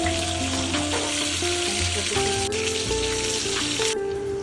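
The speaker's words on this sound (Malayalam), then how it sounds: "ഒരു പാനിലോട്ട് എണ്ണ ഒഴിച്ചിട്ട് നമുക്ക് ചെമ്മീൻ ഓരോന്നോരോന്നായി ഇട്ട് ഫ്രൈ ചെയ്ത് എടുക്കാവുന്നതാണ്" Prawns frying in oil in a pan for chemmeen fry, a dense steady sizzle under sustained tonal music, with a sharp tap partway through.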